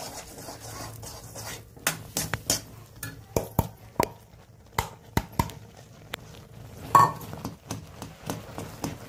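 A spoon scrapes and knocks against a pot while rice flour dough for ukadiche modak is stirred, sharp irregular clinks and taps spaced through quiet moments.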